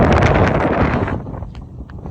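Strong wind buffets the microphone on the beach at Enniscrone, a loud, rough roar that dominates at first, then eases and gusts again toward the end.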